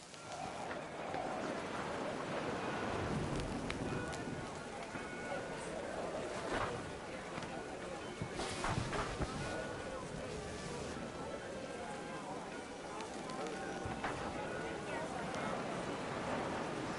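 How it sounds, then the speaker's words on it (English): Heavy rain pours down in the game What Remains of Edith Finch, a low, continuous wash with occasional brighter splashes and faint rumbles underneath. "The rain came down in buckets then"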